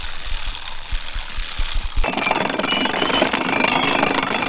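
A farm tractor sowing seed on a two-acre food plot runs with a steady, loud engine drone, first with some knocking pulses, then a smooth, even rumble close by.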